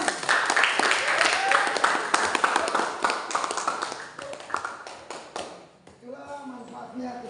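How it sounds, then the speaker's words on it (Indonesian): An audience at a school counseling training session claps together, a loud, dense burst of applause lasting several seconds before fading out, followed by a voice speaking. "Oke, tepuk tangan semua."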